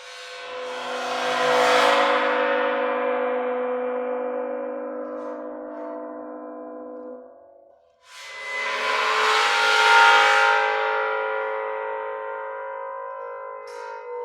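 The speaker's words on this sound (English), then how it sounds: "you can take the cymbal and bow it, and you get this sound" A bowed cymbal swells twice into long, shimmering metallic drones, each ringing for several seconds and slowly fading before the next stroke begins.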